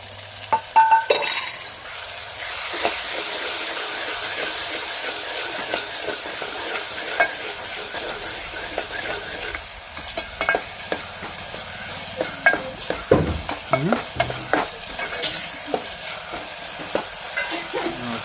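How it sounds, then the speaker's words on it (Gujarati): Tomato paste and onions fry in a pan for a whole-onion curry, giving a steady sizzling hiss with occasional stirring scrapes and clinks, fairly close and continuous throughout. "ટમેટા આપણે નાખી દીધા છે તો હવે ઘડીક ટમેટાને કકડવા દઈએ"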